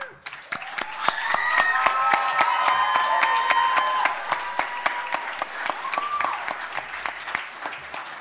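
An audience at the Grace Christian Academy senior high graduation applauds the graduating class, steady crowd clapping with cheers and whistles on top, then thinning into scattered sharp claps toward the end.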